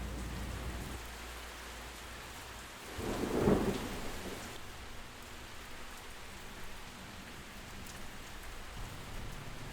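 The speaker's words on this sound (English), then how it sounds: "You like storms. I love storms. As long as you're inside." A thunderstorm heard from indoors, with steady rain hissing throughout and a low rumble of thunder swelling midway, then fading back into the continuous downpour.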